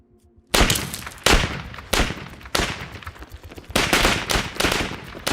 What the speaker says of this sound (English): Another example is the gun sounds in the movie.